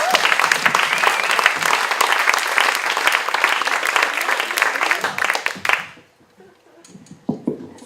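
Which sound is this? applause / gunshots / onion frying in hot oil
applause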